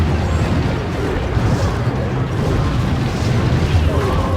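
An explosion in the Clash Royale mobile game: a loud, rumbling boom that stays dense and sustained throughout amid busy game noise.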